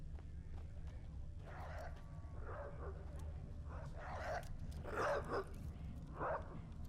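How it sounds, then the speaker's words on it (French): Dog barking and yelping in The Witcher game near a barn entrance, several short bursts spread across the clip over a steady low ambient hum, moderately loud. "C'est quoi ce bruit de chien de fou là?"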